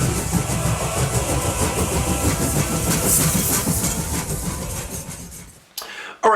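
A train rumbles past with rhythmic clickety-clack and engine drone, steady and fairly loud before cutting off abruptly near the end, followed by a brief burst of noise.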